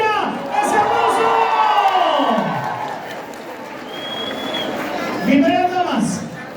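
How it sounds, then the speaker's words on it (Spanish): A crowd cheers, whoops and applauds at a women's community event in Funza, Cundinamarca, with a voice shouting over the roar and the noise swelling again near the end. "¡Esa bulla! ¡Ese aplauso!"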